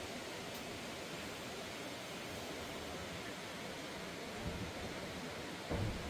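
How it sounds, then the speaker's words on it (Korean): Steady hiss of rain mixed with rushing stream water, continuous and even throughout, with a couple of faint soft knocks near the end. "비와 계곡 물소리"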